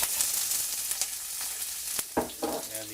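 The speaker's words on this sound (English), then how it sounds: "Add the peppers." Peppers sizzle in an oiled pan, a soft continuous frying hiss broken by sharper crackles and pops. The sound stays fairly quiet, with no voices.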